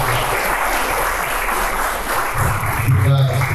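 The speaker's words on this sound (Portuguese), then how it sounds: "Pode fazer palmas." A church congregation claps together in a full, continuous wash of applause, with a low rumbling hum and some murmuring near the end.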